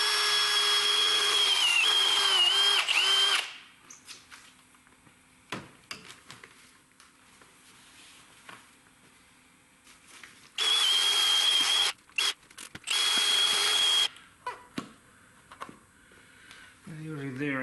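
A power drill spins an abrasive grit pad against a drooping S-Type headlight during restoration, giving two loud, steady whining bursts separated by quieter handling clatter, with brief speech between.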